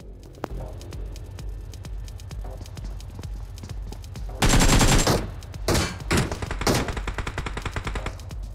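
Gunfire in BGMI, an online battle royale game: scattered single shots, then a dense loud burst of automatic fire followed by several shorter volleys, over a rhythmic clopping footstep-like background.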